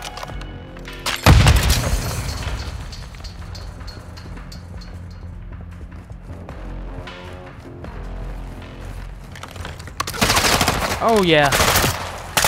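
Gunfire in Call of Duty: Modern Warfare II during a prison break mission, with a heavy boom early, quieter scattered shots in the middle and a loud burst of automatic fire near the end. A short spoken remark comes partway through.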